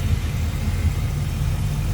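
Close by, the engine of a 1964 Chevrolet El Camino Custom with MSD ignition runs at a smooth idle, giving a constant deep rumble with a soft regular throb and no speech over it.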